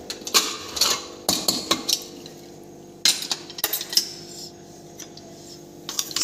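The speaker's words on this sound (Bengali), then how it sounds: "এবার প্রেশার কুকারটাকে ঢেকে দিয়েছি।" A pressure cooker holding matar pulao is closed with its lid, giving several sharp metallic clicks and clanks in uneven bursts, close by, with quiet gaps between.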